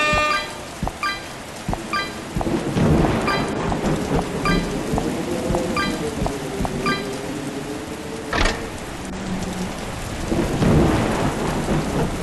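Thunderstorm in the FNAF: Help Wanted video game, steady rain hissing throughout with several sharp thunder cracks and low rolling rumbles, full and close, no voices.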